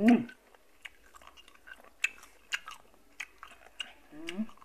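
Close, crunchy chewing and biting of cooked golden apple snails, with irregular crisp crunches and a brief voice at the start.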